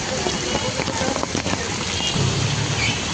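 Heavy monsoon rain pours down in a dense, steady hiss, close and loud, with drops drumming on surfaces throughout.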